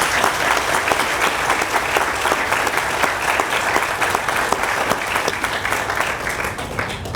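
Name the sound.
audience applause at a ribbon cutting ceremony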